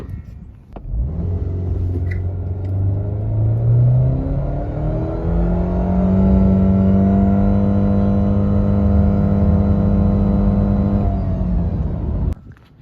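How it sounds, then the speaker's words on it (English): A Subaru Impreza engine revs hard and climbs through several gear shifts during a 0 to 60 run, rumbling loudly as it accelerates, then drops off sharply at the end. "Let me put in a 0 to 60 clip for you guys."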